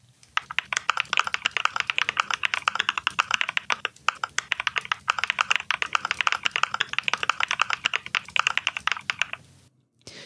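Rapid, continuous clacking of keys on a mechanical keyboard with Cream switches, close up and crisp, with a steady flurry of keystrokes that stops abruptly near the end.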